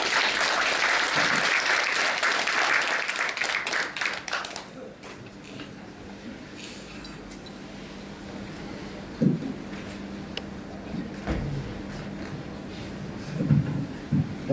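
Applause welcomes a speaker at an inauguration ceremony, a loud burst of many hands clapping for about five seconds that then stops, followed by a quiet hall with a few scattered thumps and shuffles.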